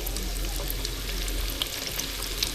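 Chicken seasoned with salt, pepper and garlic powder frying in hot oil, a steady close, dense sizzle and crackle with small pops, continuous throughout with no talking.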